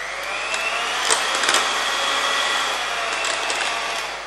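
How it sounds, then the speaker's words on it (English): A hand blender whirs through an avocado fruit-salad base of avocado, sugar and milk, a steady loud motor whine with small bumps in pitch as the blade works the mixture, alone and close. "it's always better to use hand blender or even a mixer"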